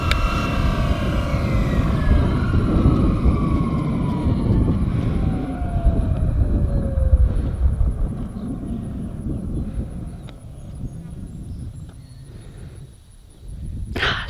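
A large Fly Wing EC135 RC helicopter's high whining rotor slowly falls in pitch as it winds down over a steady rushing background, fading toward the end.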